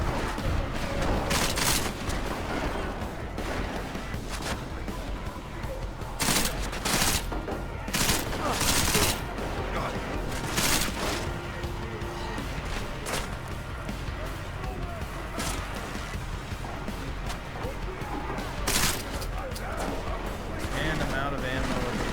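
Gunfire in a Deus Ex shootout with cops: dense bursts of rapid shots and loud cracks in clusters throughout, with a few heavier booms.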